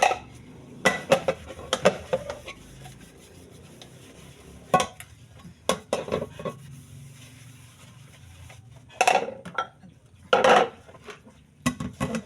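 Leftover dishes, pots and cutlery washed after a simple home birthday meal, with scattered clinks and clatters of utensils and cookware coming in uneven bursts and separated by quiet gaps.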